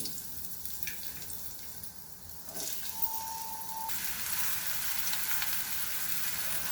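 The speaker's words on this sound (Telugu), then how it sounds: "నూనె అయితే హీట్ ఎక్కిందండి, కాకరకాయలు వేస్తున్నాను" Bitter gourd frying in hot oil, a soft continuous sizzle with faint clinks, quiet and steady, growing slightly fuller midway.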